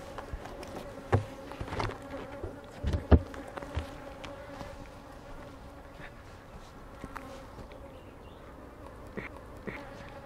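Honeybees buzz around a hive entrance, soft overlapping hums with a few louder passes as individual bees fly close by.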